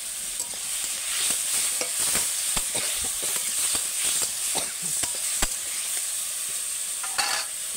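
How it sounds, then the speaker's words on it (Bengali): Vegetables tipped into a pan holding fish head and spinach curry, sizzling steadily while a utensil stirs with repeated scraping clicks, close and moderately loud. "দিয়ে সমস্ত সবজিগুলো আমি ঢেলে দেবো।"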